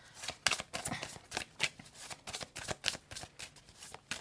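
Tarot cards being shuffled and pulled: a steady run of crisp papery riffles and flicks, close and moderately loud, with no talking.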